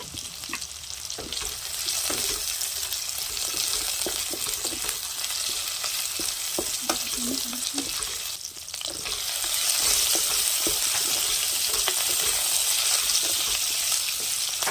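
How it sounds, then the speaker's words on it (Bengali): Dry red chillies fry in hot oil in a pan for kadai paneer, a steady sizzle with scattered stirring scrapes and taps, growing a little louder partway through. "দিয়ে দেবো দুটো শুকনো লঙ্কা।"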